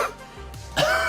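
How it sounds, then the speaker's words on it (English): A man's cough in a podcast-style comedy setting, a short harsh burst at the start followed by a louder, rougher cough near the end, close to the microphone and alone without talk. "He just starts coughing."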